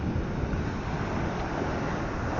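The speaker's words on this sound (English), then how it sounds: "Oh, these waves are crashing." Sea waves wash and crash onto a Suffolk shingle beach at Pakefield during beach fishing, a steady broadband roar mixed with wind buffeting the microphone, close and loud, with no voices.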